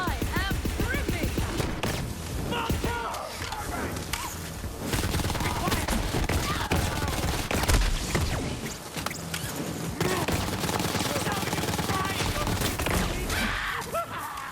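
A weapon fires rapidly in the video game Borderlands 3, dense and continuous shooting mixed with game music and effects, loud throughout with no real pause.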